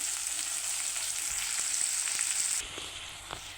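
Broad beans and tomato curry sizzle steadily in a pan while a spoon stirs, a bright frying hiss with soft scraping taps, and the sizzle drops noticeably near the end.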